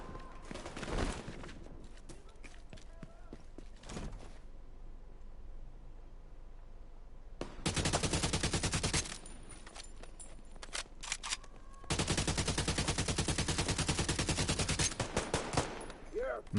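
Automatic weapon fire in the shooter game The Division 2, a sharp crack near the start then two long sustained bursts of rapid shots, loud and close, with brief pauses and scattered clicks between.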